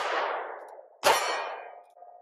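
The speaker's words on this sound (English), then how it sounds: "Let's hit the gong." A steel gong is struck twice by shots from a Glock 42 pistol at an outdoor range, each hit a bright ringing clang that decays slowly, the second louder.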